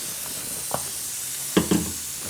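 Cooking oil heats in a pan before brinjal is fried, a faint, steady hiss with a few soft clinks and taps near the end.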